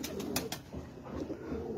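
A rare Sialkoti pigeon coos softly in a low, throaty murmur, faint and close, with a few short clicks and rustles over steady background noise.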